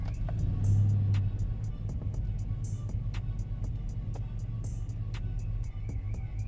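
Procharged, BTR-cammed 6.2L GMC Denali truck engine running with a steady low rumble that swells briefly near the start, then settles into an even idle with faint clicks and rattles around it.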